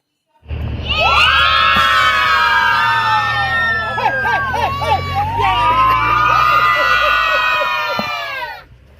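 Zilla Parishad schoolchildren at a centre-level school sports competition in Dudhondi erupt together in loud, sustained shouting and cheering. The high-pitched voices overlap for about eight seconds before dying away.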